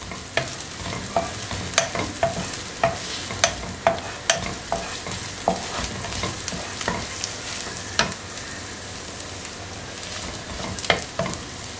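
Longitudinally sliced carrot stir-fried in a pan for egg chow mein, with a continuous loud sizzle and a rapid series of sharp spatula scrapes and clacks against the metal.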